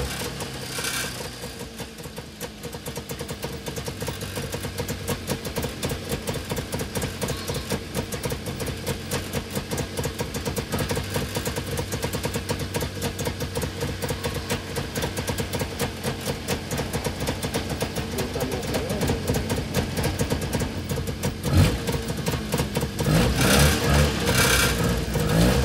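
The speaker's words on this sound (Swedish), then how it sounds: "Motorn, ja, det är förstås en tvåtaktare som i det här utförandet ger 20 hästkrafter." A 1931 front-wheel-drive car with a 20-horsepower two-stroke engine running, giving a busy rapid buzzing that stays fairly steady with some rises in revs, moderately loud and without talk.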